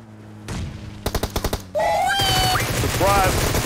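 Gunfire in a battle royale video game: a rapid burst of about six sharp shots, then a louder chaotic stretch of further game sounds with groans and voices.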